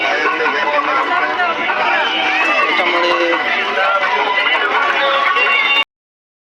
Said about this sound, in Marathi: मित्रांनो खूप सारी गर्दी बाजारामध्ये